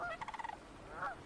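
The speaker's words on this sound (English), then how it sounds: "Sandhill cranes arrive from Mexico" Migrating sandhill cranes at a beaver pond give a short series of rapid, rolling calls close by, followed by one longer trill, with no voices.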